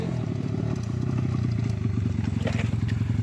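A motorcycle rides past near a riverside magnet-fishing spot, its engine a steady, fairly close rumble with rattling clatter throughout.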